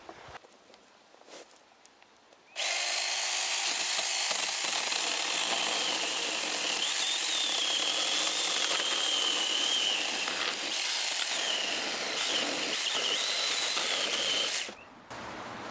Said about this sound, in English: Little mini chainsaw.